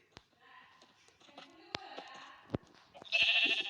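Sheep bleat in short bursts, one louder bleat at the end, with scattered clicks and light rustling around them.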